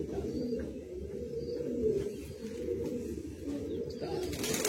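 Kalsira Madrasi high-flying pigeons from Andhra Pradesh cooing, a soft, low, continuous murmur of overlapping coos close by, with faint chirps above.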